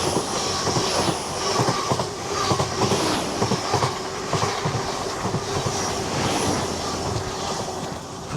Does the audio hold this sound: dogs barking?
no